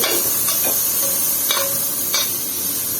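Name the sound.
stirring vegetables into crab coconut stew in a pan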